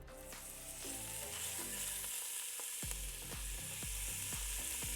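Meat sears in hot oil in a pan, giving a continuous sizzling fry broken by a series of low, rhythmic thumps and clanks as it is tossed and turned, close by with no speech.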